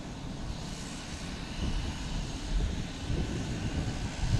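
A JetBlue jet airliner on the runway at Boston Logan: a continuous, fairly loud roar of jet engines with low rumbling surges, heard from outdoors without talk.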